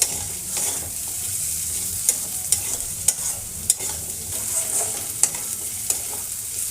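Crab pieces frying over a high flame, stirred often: a steady bright sizzle runs throughout, broken by sharp clacks and scrapes from the spatula at irregular intervals.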